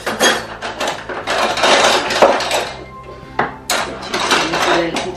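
Metal spoons clatter and knock against plastic as a parent and toddler handle them while setting up food-colouring fibre dyeing indoors, a busy run of close clinks and bumps with bits of voice around them.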